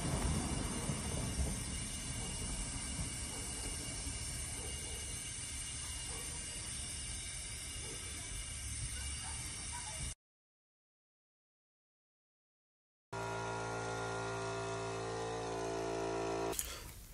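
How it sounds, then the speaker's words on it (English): A homemade automotive smoke machine runs on compressor air, giving a steady, loud broadband hiss and rush. The sound cuts out completely for about three seconds, then returns with a strong low hum and a steady airy roar. "just enough air to flow through the smoke machine"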